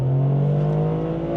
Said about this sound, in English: 3-cylinder engines aren't supposed to sound good, and this engine doesn't entirely escape that rule.